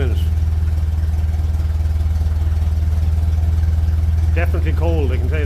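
Steady, throbbing idle of a cold 1957 Ferguson 35 TVO tractor engine at around 600 rpm, low and continuous, with someone talking over it near the end.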